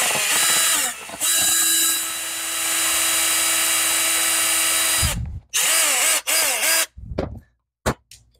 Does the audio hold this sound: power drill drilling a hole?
yes